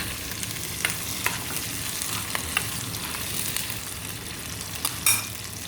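Sliced onions fry in a pan and are stirred, giving a steady close sizzle broken by occasional scraping and clinking spoon strokes, with no talking.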